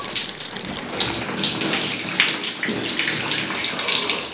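A cold shower runs steadily, its water hissing and splattering in a continuous close-up spray with small fluctuations as it hits a body and the floor.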